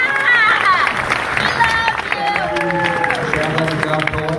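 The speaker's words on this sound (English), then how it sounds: "Let's give Dov a great big round of applause." Audience at a veterans town hall at the Brentwood VA clapping and cheering after a song, a steady wash of applause with crowd chatter and a voice speaking over it throughout.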